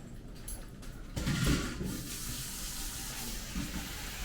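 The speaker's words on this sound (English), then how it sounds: "Then we'll come run these under cold water" Cold water runs steadily from a kitchen tap with a broad, constant rush, swelling slightly as the flow strikes something in the sink partway through.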